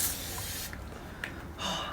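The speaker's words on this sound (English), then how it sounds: "For some reason I'm using this Evian like powder, spray." Two short bursts of fine mist from an Evian facial water spray hiss out close by, separated by a brief pause.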